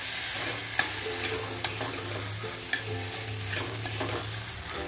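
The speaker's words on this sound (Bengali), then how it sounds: "একটু কষিয়ে নেবো আলু মটরটাও মশলার সঙ্গে, এভাবেই করে।" Potato and peas sautéed with spices for ghugni sizzle steadily in a pan while a spoon stirs through them, knocking against the pan every second or so, close and without talk.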